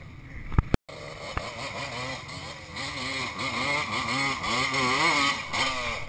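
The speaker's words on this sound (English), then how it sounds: "He'll climb one on a Bayou 220." A Kawasaki Bayou 220 ATV engine revs and strains steadily up a Florida hill climb, its pitch rising and falling with throttle changes, after a couple of sharp knocks at the start; the engine stays fairly loud and continuous throughout.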